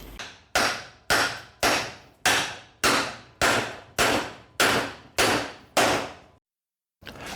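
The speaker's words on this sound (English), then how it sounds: "a few whacks later, of course with a soft hammer" A soft hammer strikes a drive shaft universal joint yoke on a Toyota Hilux ten times in an even rhythm, each knock sharp and ringing briefly. After a short pause, one more blow lands.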